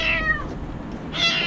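A kitten trapped down an underground abandoned dryer vent gives two high, plaintive meows, one at the start and another near the end, fairly close and clear with a hollow quality.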